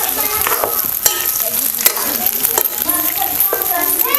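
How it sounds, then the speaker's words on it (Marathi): Soybean chunks stir-fry in a small amount of hot oil, a steady close sizzle broken by sharp scraping clicks of the spatula against the pan, continuous throughout with no talk. "मग आता आपण सगळं ना असं तेलामध्ये सोडायचं"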